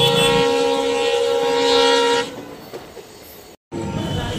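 A local train in Assam runs along with a steady rumbling hum while a long horn toots loudly for about two seconds, then the running noise fades lower before a brief dropout and a return of the rumble.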